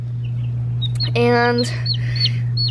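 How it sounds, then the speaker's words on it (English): A newly hatched pet chick kept in a box gives a few high, thin chirps and one longer peeping call over a steady low electrical hum, with a brief word spoken nearby. "He's just very chatty. He likes to chirp"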